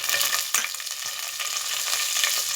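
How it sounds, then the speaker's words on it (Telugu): Mustard seeds and cumin spluttering in hot oil for a tempering, a dense, loud crackling sizzle with sharp pops throughout, close up with no talking. "ఇప్పుడు తాలింపు వేసేద్దాం"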